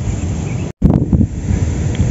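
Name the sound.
strong wind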